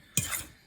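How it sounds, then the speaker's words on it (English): A fork stirring a pie pastry water mixture in a bowl makes one short, faint clink and scrape of metal against the bowl, then a soft fading swish. "I think this fork is going to work better for this purpose."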